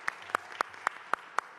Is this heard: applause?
yes